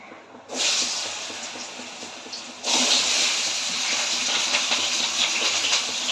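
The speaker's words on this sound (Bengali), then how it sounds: "এর মধ্যে আমি এখন ওলগুলোকে দিয়ে দেবো," Pieces of elephant foot yam drop into hot oil tempered with cumin, bay leaf and dried chilli, setting off a loud steady sizzling hiss that surges again partway through and keeps crackling close by.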